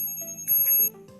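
Bicycle bell on an e-bike during a safety message at a Nantucket town meeting, a brief ring heard over a steady electronic tone and background music.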